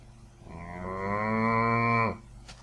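A blocky Minecraft cow lets out a single long, drawn-out moo, swelling gradually and cutting off sharply, heard alone with no talk.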